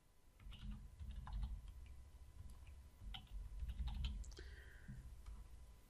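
Fingers tap out a username and password on a computer keyboard, soft, quick keystrokes in short bursts over a low, steady room hum.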